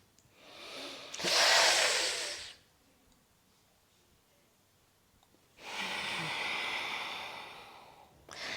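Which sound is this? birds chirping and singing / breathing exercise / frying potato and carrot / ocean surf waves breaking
breathing exercise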